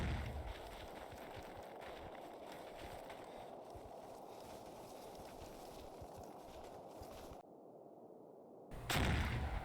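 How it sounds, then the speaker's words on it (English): Mortar barrages rumble in Combat Mission Fortress Italy against French troops on a snowy left flank, a steady dense roar of distant thuds that drops out briefly near the end before a louder burst returns. "I put some mortars onto the French on my left flank"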